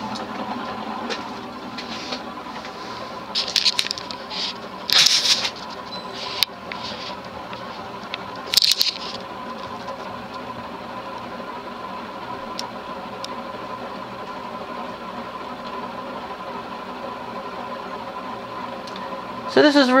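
A Toastmaster 36-inch vented spinner ceiling fan with worn bearings runs at medium speed with a steady, rumbling mechanical drone, while someone talks over it and scattered knocks and clicks sound.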